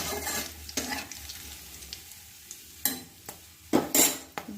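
Whole spices such as cloves, cardamom, cumin and dried chillies sizzling in hot oil in a pan, with close scraping stirs and clinks of a spoon against the metal, several sharp strokes standing out near the end.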